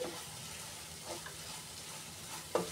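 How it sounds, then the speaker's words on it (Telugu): Coriander seeds, cumin and fenugreek sizzling in a pan on the stove, a soft steady crackle with faint stirring scrapes and a brief clink near the end. "ఒక 2-3 మినిట్స్ వేయించుకొని స్టవ్ ఆఫ్ చేసేసుకుందాము"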